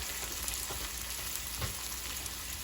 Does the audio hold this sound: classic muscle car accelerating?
no